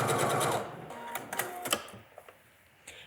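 Sewing machine stitching binding onto a dress armhole, a short burst of fast stitching up close that quickly stops, followed by a few scattered clicks and handling sounds.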